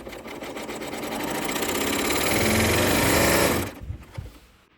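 A serger sewing machine stitching binding off the edge of fabric, a fast, dense mechanical whir that builds for several seconds, runs loud and close, then stops abruptly and leaves a few small clicks.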